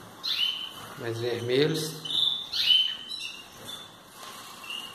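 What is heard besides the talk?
canaries chirping in an aviary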